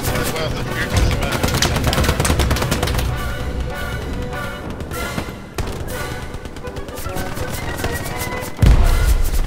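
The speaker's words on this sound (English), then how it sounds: "There's a guy shooting through a wall." Gunfire piercing a wall in the World War II shooter Hell Let Loose, with dense rapid bursts of shots, loud and close, breaking off and then resuming, and a heavy blast near the end.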